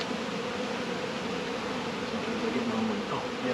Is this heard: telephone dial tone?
no